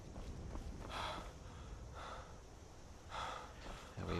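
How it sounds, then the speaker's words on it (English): A Skyrim character pants in a steady loop of heavy, breathy gasps, several rising breaths repeating roughly every second over a constant hiss of background noise, faint and with no talking. "We appear to have entered one of those endless panting cycles again."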